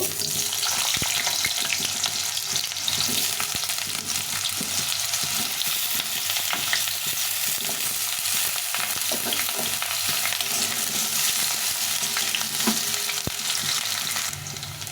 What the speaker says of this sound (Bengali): প্রথমে তেল দিয়ে আলুটা আর বেগুনটা একটু ভেজে নেবো প্রথমে আলুগুলো দিব